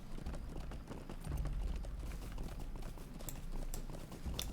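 Hooves of a ridden horse in the Lord of the Rings Online game, a steady rhythmic clip-clop of galloping footfalls at moderate loudness, continuing evenly throughout with no talking.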